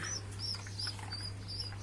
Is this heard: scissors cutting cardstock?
no